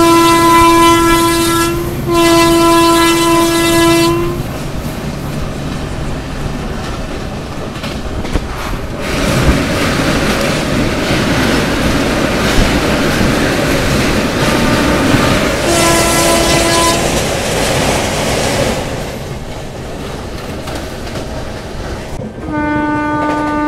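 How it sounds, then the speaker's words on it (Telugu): A fast-moving train roars past with a loud, sustained rumble and clatter of wheels, while a horn sounds in long blasts at the start, again midway and briefly at the end. "ఏ ట్రైన్ ఎక్కినా కానీ ఇంత స్పీడ్లో స్కిప్ చేయడం నా ఫస్ట్ టైం."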